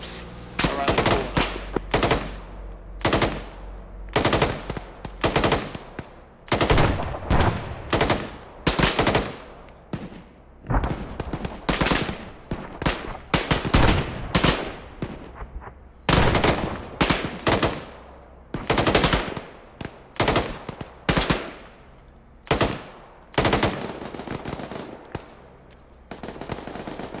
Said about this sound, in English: I guess we can return fire now